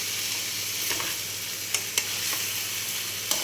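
Quail sautéing in a pan with salt and chili gives off a steady, close sizzle, broken by a few sharp scraping clicks of a spatula; no one speaks.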